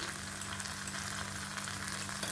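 Banana flower curry with ghee and garam masala is stirred in a pan, giving a soft, steady frying sizzle with faint scraping, quiet and close, with no talking.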